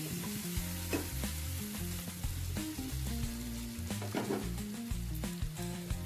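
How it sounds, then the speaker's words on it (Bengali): Fried potatoes cook with spices and tomato in a pan, giving a steady, close sizzle over about six seconds, with tonal background music running throughout. "মশলার সাথে ভালো করে আলুটাকে কষিয়ে নেব 2 মিনিট ধরে"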